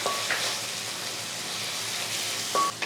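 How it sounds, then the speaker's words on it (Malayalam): Chopped medium tomato sizzling and frying in a hot pan while being sautéed for a Kerala-style brinjal dish, a steady soft hiss with a couple of brief spatula scrapes. "ഈ തക്കാളി നല്ലതായിട്ടൊന്ന് വഴറ്റാം."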